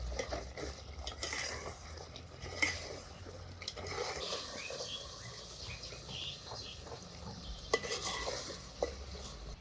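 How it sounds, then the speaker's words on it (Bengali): Mutton with potatoes and ground spices frying in a pot, a soft sizzle under busy stirring and scraping of a utensil against the metal, with a few sharper clinks, quiet and close. "আলুগুলো দিলাম গুঁড়া মশলাটাও দিই নেড়েছি চেড়ে মিশিয়ে আরো কিছু সময় কষিয়ে নেবো"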